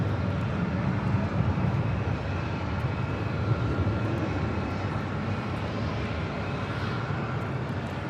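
A Sun Country Airlines jet departing Los Angeles International Airport, a steady broadband engine roar with a deep low rumble, loud and continuous, no voices.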